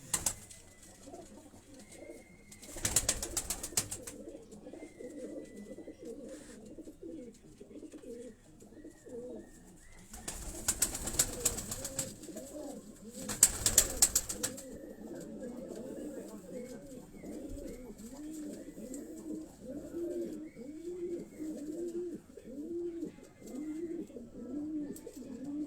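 High-flying pigeons coo in repeated soft rolling calls throughout, close by, with a few short bursts of broadband noise cutting in.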